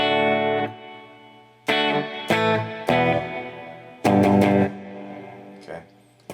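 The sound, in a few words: clean electric guitar through amp reverb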